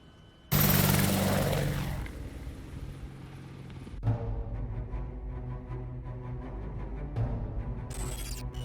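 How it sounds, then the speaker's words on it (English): A helicopter lifting off from the Omura garrison in a sci-fi anime, entering as a sudden loud roar and settling into a sustained low rotor and engine drone with a few bumps, with no voices. "a helicopter just took off without orders from the Omura garrison"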